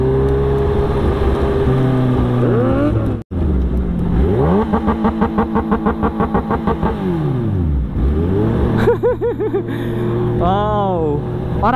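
A Kawasaki Ninja H2 motorcycle engine revs repeatedly on a street, rising and falling in pitch with rapid throttle blips, loud and close, with a brief cut partway through.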